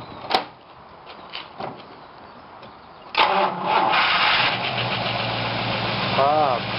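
A few clicks and thumps, then a 1955 Imperial sedan's Hemi V8 engine cranks and catches, settling into a steady idle; a voice speaks briefly near the end.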